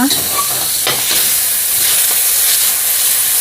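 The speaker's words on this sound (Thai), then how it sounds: "ใส่เนื้อหมูไปก่อนนะคะ หมูติดมันนะคะ เราจะ เจียวเอาน้ำมันหมูนะคะ" Fatty pork sizzles and crackles steadily in hot oil as lard renders out for a Thai stir-fry of mixed vegetables, a loud, dense hiss with an occasional stir or clink.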